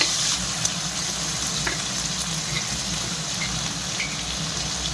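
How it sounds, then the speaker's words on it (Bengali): Paneer cubes fry in hot oil in a pan for palak paneer, a loud steady sizzle that holds at an even level throughout, with a few faint pops on top. "পনিরটা একটু ভেজে নেব।"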